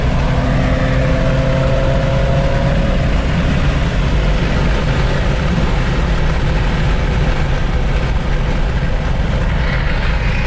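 A tuned Infiniti VR30 engine running hard on a street in Austin during a tuning meet, a dense, loud, unbroken roar that holds steady throughout with no voices over it.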